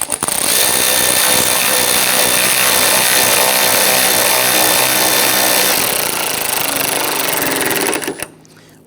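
A power tool runs steadily, close and loud, tightening a bolt on a plastic front bumper bracket of a 2011-2019 Ford Explorer, a continuous whirring drive for about eight seconds before cutting off abruptly.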